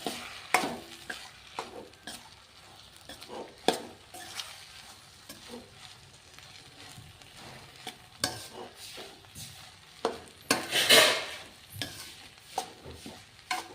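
Cooked rice is stirred and tossed through capsicum masala in a pan to make capsicum chitranna. Steady scraping and light sizzling run throughout, with sharper spatula knocks against the pan at irregular moments and no voices.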